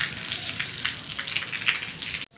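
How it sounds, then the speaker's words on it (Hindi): Rain falling outdoors makes a soft, dense patter of drops, quiet and continuous until it cuts off abruptly near the end. "बारिश।"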